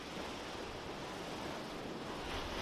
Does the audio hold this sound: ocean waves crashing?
yes